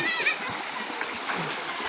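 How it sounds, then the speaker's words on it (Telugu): Splashing water from a small village waterfall used as a natural slide in Vangara, a broad steady wash close by, with children's voices faintly mixed in. "వంగర గ్రామంలో మినీ వాటర్ ఫాల్, మినీ జారుబల్ల."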